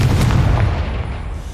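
A single deep, booming explosion from the Confringo spell in a Harry Potter video game, loud at the start and then fading into a rumbling tail.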